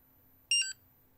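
An ISDT FD200 battery discharger gives a short two-tone electronic warning beep, bright and clear against near silence.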